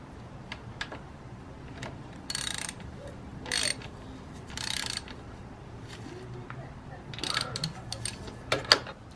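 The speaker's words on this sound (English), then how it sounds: "And now tighten it with your 19mm socket." Ratchet fitted with a 19mm socket tightening the oil filter cover on a dirt bike, giving several short bursts of close metallic clicking separated by pauses, over a quiet background.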